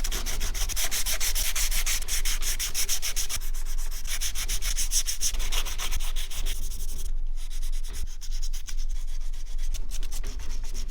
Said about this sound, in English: Sanding the filler on this is difficult because the dash material is so fragile.